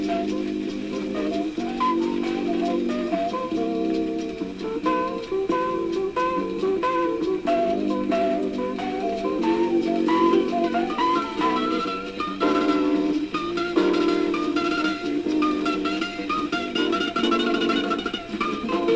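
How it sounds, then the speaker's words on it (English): Music plays from a record on a Seabreeze Model 968 record player, with the needle dragging and pulling the disc off center; a steady, full-volume tune with dense tones runs throughout, no talking. "The needle itself is dragging on the record sufficiently to pull the record off center."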